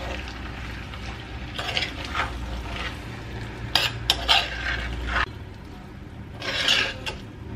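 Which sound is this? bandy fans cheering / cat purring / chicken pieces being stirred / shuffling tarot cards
chicken pieces being stirred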